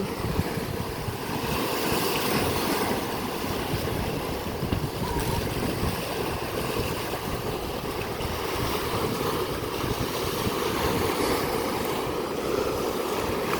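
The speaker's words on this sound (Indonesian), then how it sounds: "Dengerin suara ombak ini" Steady ocean surf rolls and washes continuously at Rambak Beach, Bangka, with a constant roar of waves and gusty wind buffeting the microphone, no voices present.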